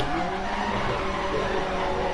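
A rally car in a racing video game slides through a handbrake turn, its engine droning steadily under a continuous tire skid and squeal, close and even in loudness with no pauses.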